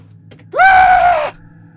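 A woman's sharp, drawn-out scream used as a sound effect in a horror radio story, loud and close, lasting under a second against a quiet background hum.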